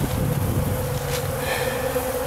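Honey bees swarming around a dry pollen feeder outdoors, a steady, dense, close buzzing drone with no pauses.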